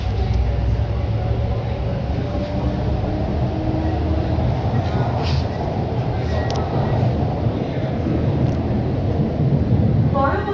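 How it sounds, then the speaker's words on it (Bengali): A Kolkata Green Line metro train pulls out of the station with a steady, loud low rumble and rolling hum that holds throughout, the car interior noise continuous and close. "এখন এটা ট্রেনটা এখান থেকে শুরু করছে, ছাড়ছে"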